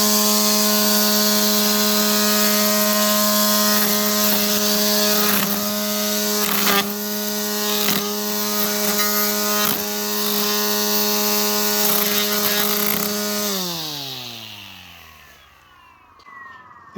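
An ECHO DSRM-2100 cordless string trimmer running in fast mode cuts through plants, stems and a plastic container, giving a loud steady high whine with brief rhythmic chopping bursts before the motor winds down near the end.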